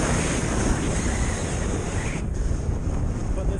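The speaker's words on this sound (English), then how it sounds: "So I do now have a bit of a headwind." A headwind rushes past during a paragliding flight, making a dense, unbroken roar of air over the microphone that stays loud and steady throughout.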